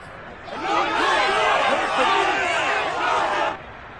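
Stadium crowd in a Colts versus Eagles football video game roars and cheers, a loud sustained swell of many voices that holds steady for about three seconds before dropping away.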